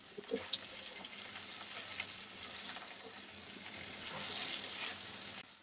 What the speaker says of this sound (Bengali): এর মধ্যে মাছটা ভেজে নেবো হালকা করে।